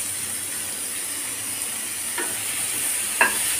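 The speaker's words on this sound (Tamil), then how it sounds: "இதை நான் இன்றைக்கி எண்ணெயில் வதக்குறேன், கொஞ்சம் நல்லா வதங்கிடட்டும்." Tomatoes sautéing in oil in a pan, a steady close sizzle and frying hiss throughout, with a couple of faint utensil taps near the end.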